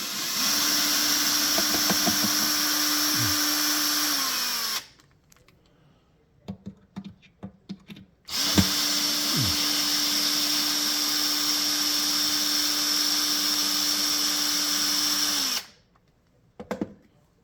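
A power screwdriver whirs in two long bursts, loosening chassis screws on a Fender Blues Junior guitar amplifier, with brief clicks and handling noises in the pause between runs.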